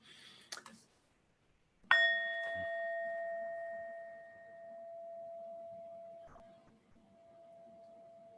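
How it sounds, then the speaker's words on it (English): A single bell is struck during a mindfulness session, giving a clear, bright ring that sustains and slowly fades over several seconds. A fainter tap comes before it, with soft background noise. "As we listen to the sound of the bell fading away"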